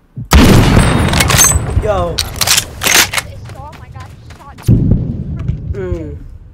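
Heavy booming gunshots in a video game shootout, two loud blasts several seconds apart with lighter shots between them, under excited talk from players.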